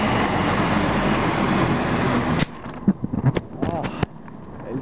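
A train pulls into a station with a loud, sustained rolling rumble that stops abruptly, followed by scattered clanks, squeals and thuds as it settles at the platform.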